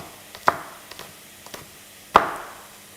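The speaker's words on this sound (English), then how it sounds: "I'm chopping the chilies." A knife chops chili peppers on a cutting board: two sharp, close thuds about a second and a half apart, with a few lighter taps between them in a quiet kitchen.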